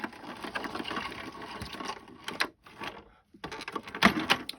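A die-cutting embossing machine is cranked by hand, pushing a card-and-die sandwich through its rollers with a steady grinding, rumbling churn that pauses briefly and resumes.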